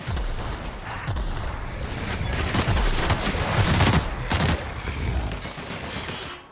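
Sustained gunfire in The Outer Worlds, a dense run of rapid shots and booming impacts for several seconds, loud and close with a faint voice underneath.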